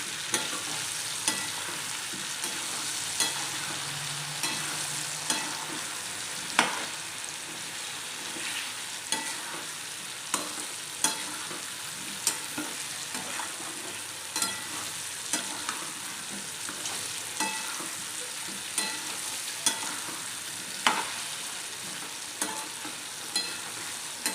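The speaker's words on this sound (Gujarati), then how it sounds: "ત્યારબાદ સરસ રીતે આપણે હલાવી લઈશું" Close-up stirring of pumpkin sabzi in a pan after spices are added, a steady oil sizzle with repeated scrapes and clacks of the spoon against the pan in an uneven rhythm, with no voices.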